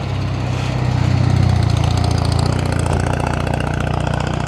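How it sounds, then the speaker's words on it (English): A nearby two-stroke engine runs loud and steady with a buzzing, rattly drone that swells slightly then holds, and no one speaks. "Two-stroke."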